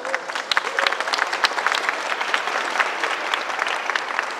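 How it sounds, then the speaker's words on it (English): Attendees at a city gardens award reception give themselves a round of applause, a continuous, fairly loud patter of many hands clapping with sharper individual claps poking through. "Give yourselves a round of applause."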